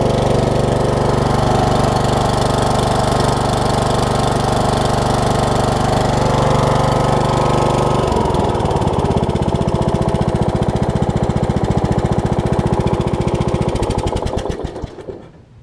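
Troy Bilt Pony riding lawn mower with a 17.5 engine running steadily up close, a loud continuous drone that shifts pitch partway through and then cuts off at the end.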